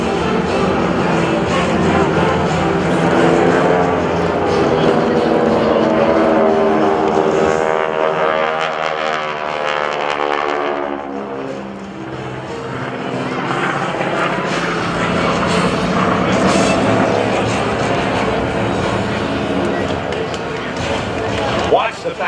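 Two forward air controller spotter planes pass overhead at a military airshow, a droning propeller and engine sound that swells and sweeps past with a clear pitch shift, under a public-address announcer's voice.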